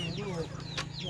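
Farm chickens cluck softly in short rising calls over a low steady hum, with one brief sharp burst in the middle of the moment.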